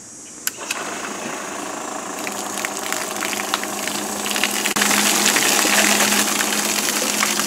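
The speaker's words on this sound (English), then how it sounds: "we're going to back flush it, see what happens." A water pump back-flushes a Ford Model A radiator, giving a steady, close whirring hum under rushing, gushing water that grows louder and fuller about two-thirds of the way through, with no talking.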